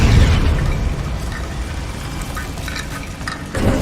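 A Bombarda blasting spell going off in Hogwarts Legacy, a loud, close explosion with a heavy rumbling roar that gradually settles, then a fresh surge of rumbling debris near the end.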